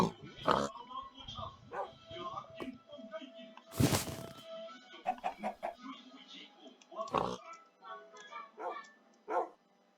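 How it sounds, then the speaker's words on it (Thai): Chickens in the Minecraft video game cluck in short game-sound bursts at moderate volume, mixed with other animal noises and a loud burst near the middle, with scattered talk around them. "เอาไก่มา มาทิ้งไข่อะไรตรงนี้ ไก่ทิ้งไข่"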